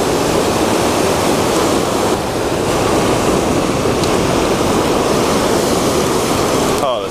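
Ocean surf washes steadily onto a Big Island Hawaii shore at night, a loud, continuous broadband roar of breaking waves and wash that fills the whole stretch with no pauses.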